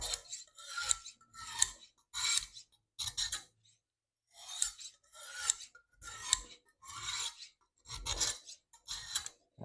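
A burred knife blade drawn through a knife sharpener in a dozen or so rhythmic rasping strokes, each a gritty scrape about half a second long with short pauses between, close and clear with no talking.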